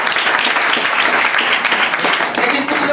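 A Hindi-speaking audience at a talk bursts into loud, dense applause, a steady wash of many hands clapping close by for a few seconds.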